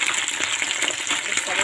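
Mumbar, stuffed intestines, dropped into hot oil, giving a bright continuous crackling sizzle, close and fairly loud for a brief moment.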